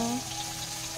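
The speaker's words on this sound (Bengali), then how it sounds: "মাছ ভাজা হচ্ছে" Tilapia fish frying in hot oil in a rural village kitchen in the Sundarbans region, giving a steady, even sizzle that runs unbroken at moderate loudness for the whole moment.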